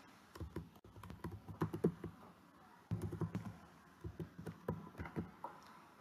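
A password is typed on a computer keyboard, quiet close key clicks in two quick bursts separated by a brief pause.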